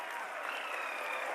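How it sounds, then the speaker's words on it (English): Crowd applauds the Chandrayaan moon landing in India, a steady, distant wash of clapping held at a low level from start to finish. "Applauding."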